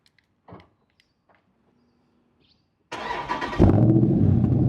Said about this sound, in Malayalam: ഈ കാറിൻ്റെ സൗണ്ട് ഒന്ന് കേട്ട് നോക്ക്